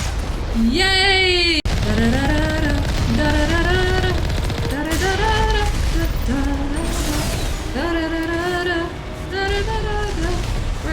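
An explosion in the video game Mass Effect sounds as a loud, sustained blast and rumble under ongoing game noise, while a player's voice cheers over it.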